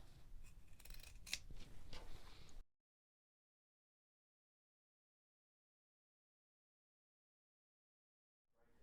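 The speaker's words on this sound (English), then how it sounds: "I'm just going to cut around every line." Fabric scissors snipping around a scalloped quilt edge, a close run of crisp rhythmic cuts for about two and a half seconds before silence.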